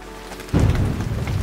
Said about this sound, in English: It rained pretty heavily throughout the night